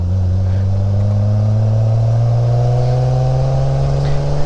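A 1971 Triumph Vitesse engine rises steadily in pitch as it revs through a gear on an open-top drive, a loud, smooth, close drone with no voices.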